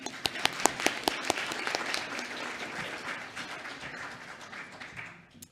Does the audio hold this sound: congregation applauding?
yes